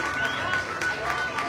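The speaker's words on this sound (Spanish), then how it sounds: "Y un aplauso para todos ustedes, por favor, que suene fuerte" An audience claps together at a live book fair event in Coyoacán, a dense, steady wash of applause with a faint tonal hum running through it.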